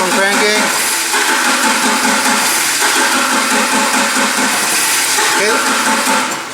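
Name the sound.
Nissan forklift engine cranking without starting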